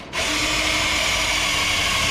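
A power drill bores a hole for a ductless rangehood during an apartment turnover, starting abruptly and then whining steadily and loudly for about two seconds, alone without talk.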